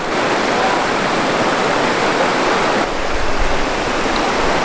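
Cold Georges Creek water rushing near the Styx River, a loud, continuous broadband roar of flowing water with no voices.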